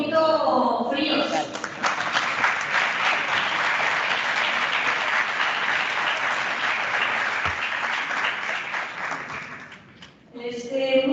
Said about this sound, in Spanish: Vamos a darles un aplauso que sea un poquito fríos.